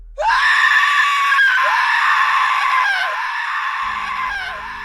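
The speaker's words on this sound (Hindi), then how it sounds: "आईने टूटते ही एक जोरदार चीख गूंजी।" A loud, sustained scream rings out and echoes, a horror-story effect as a mirror shatters; the shrill cry wavers in pitch for several seconds before trailing off, with a low rumbling drone entering near the end.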